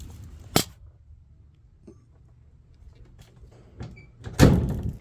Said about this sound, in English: that door closed at the same time